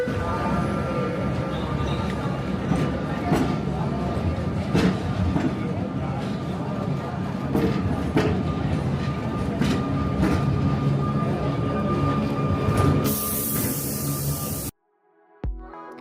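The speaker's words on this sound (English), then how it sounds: "This is the tram arriving that takes you to Port de Sóller." A tram heading to Port de Sóller, Mallorca, rumbles steadily close by with a continuous rolling roar, faint rail clicks and a high squeal, before the sound cuts off abruptly near the end.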